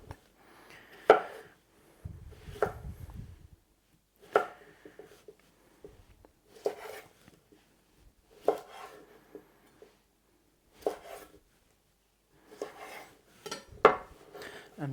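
Sharp knife strikes chopping cucumbers on a cutting board come in short irregular bursts separated by pauses, close and crisp, with faint clinks of kitchenware.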